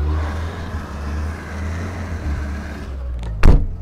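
Car in two-wheel-drive high with its tyres spinning on snow: a steady engine drone with low rumble for several seconds, then a short louder burst near the end.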